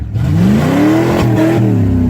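An old Ford engine revs loud and steady with its exhaust fallen off, the raw, unmuffled roar rising and falling in pitch over about two seconds during a snowy drive, with no talking.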